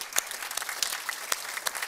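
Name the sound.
audience applause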